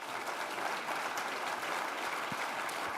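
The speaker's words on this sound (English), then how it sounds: "Round of applause for our panel." A conference audience applauds a panel with steady, even clapping that holds throughout, moderately distant and with no talk over it.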